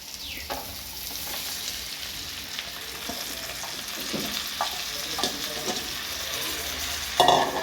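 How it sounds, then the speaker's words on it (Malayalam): Mixed vegetables and onion frying in melted butter in a kadai, a constant close sizzle with a spoon stirring and scraping now and then, and a sharper clatter near the end. "നമുക്കിനി നേരെ ഇതിലേക്ക് നമ്മൾ നേരത്തെ മാറ്റി വെച്ച വെജിറ്റബിൾ ഉണ്ടല്ലോ, അത് നമുക്ക് ഇതിലേക്ക് ഇട്ട് കൊടുക്കാം."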